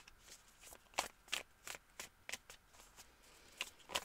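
Tarot cards riffle and snap in a quiet room during a three-choice energy reading, a run of brisk, separate flicks and slaps as the deck is shuffled and one last card is drawn, close and fairly soft, no voices.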